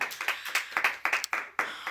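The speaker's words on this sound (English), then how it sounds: "round of applause" Scattered hand claps from a small audience welcoming a producer, about eight separate claps over two seconds, uneven and fairly close, with no voices over them.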